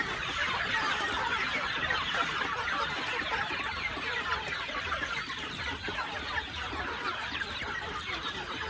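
A dense chorus of chickens clucking continuously, many birds at once, loud and steady throughout with no talking.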